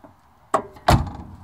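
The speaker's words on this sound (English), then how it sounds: "The doors close." Two solid thunks of an old car door on a barn find vehicle being shut, the first lighter and the second a heavier slam about a third of a second later, close by and with no voices.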